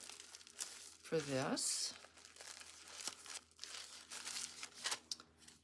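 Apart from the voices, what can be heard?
padded envelope being crinkled while packing an order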